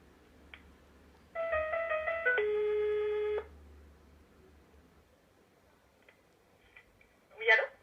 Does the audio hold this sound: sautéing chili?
no